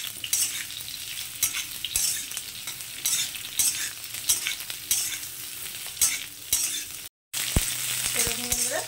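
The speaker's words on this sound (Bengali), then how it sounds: "তো সজনের ডাঁটাটা এবার আমি একটু হালকা ভেজে নেব।" Moringa drumstick pieces and potatoes fry lightly in oil in a pan, with a loud, steady sizzle broken by repeated scraping stirs, a brief dropout near the end, and no talk.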